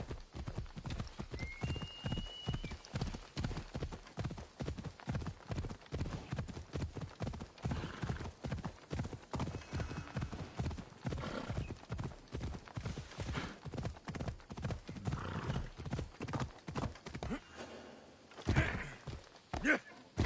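A horse gallops in Assassin's Creed Odyssey, its hooves clopping in a fast, steady rhythm close up, with a brief whinny and a thud near the end and a voice speaking over it.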